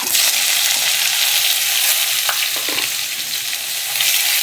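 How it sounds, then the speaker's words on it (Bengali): Chopped onion fries with whole cumin seeds in hot oil, making a loud, continuous close sizzle with a few faint utensil taps partway through. "এবারে আমি কেটে রাখা পেঁয়াজ দিয়ে দেবো।"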